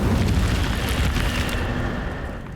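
A fiery burst from the Incendio spell in the Hogwarts Legacy video game, a loud roaring whoosh that slowly fades over a couple of seconds.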